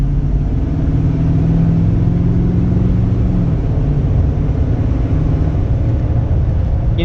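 A 2011 Ford F250 Lariat FX4 pickup with a 6.7L Powerstroke diesel tuned to 500 hp accelerates, its engine droning loud and steady from inside the cab, with the pitch climbing gradually as it gathers speed.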